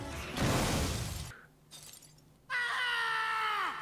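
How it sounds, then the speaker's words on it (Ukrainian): A car smashed in the Bayonetta video game, a loud burst of crashing, breaking debris, a short lull with a thud, then a sustained ringing, tonal metallic wail that holds loudly to the end. "Ой, я розбив машину його."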